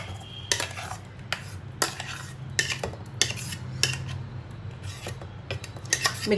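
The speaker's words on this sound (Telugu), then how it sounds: "ఇప్పుడు చట్నీ అంతా మీ బౌల్లోకి తీసేసుకుందాం" A spoon scrapes and clinks repeatedly against a metal grinder jar while tomato chutney is scooped into a bowl, a rhythmic series of sharp metallic taps over a low hum.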